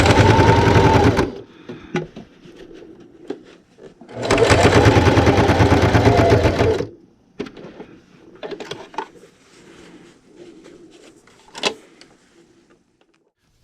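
Sewing machine stitching the seam of a fabric pint-size ice cream cozy, two loud sustained runs of stitching separated by a pause with light handling clicks and rustles, then quieter fabric shuffling.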